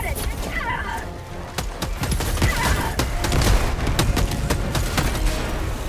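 Sustained gunfire in the Helldivers 2 video game, a dense barrage of rapid shots and crashes near enemy artillery that runs without pause, loud and close throughout.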